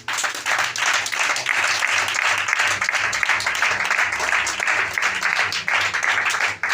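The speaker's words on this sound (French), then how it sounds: "Acclame Jésus-Christ" A church congregation applauds loudly and continuously, a dense wash of many hands clapping close by that holds steady for several seconds.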